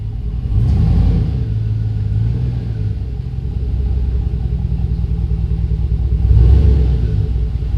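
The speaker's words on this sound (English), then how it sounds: "Let's back the truck in for the night" A truck engine rumbles steadily at low pitch as the truck backs in, revving slightly at the start and again near the end, close by with no talking.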